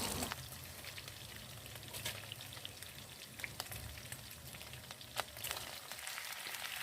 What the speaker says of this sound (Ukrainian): Перші декілька хвилин, поки смажиться картопля, вся трошки не закриваємо.